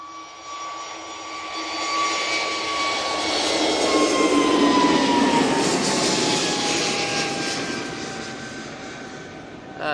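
An EasyJet jet airliner takes off at Manchester Airport with a loud jet roar and high whining engine tones that swell toward the middle and slowly fade.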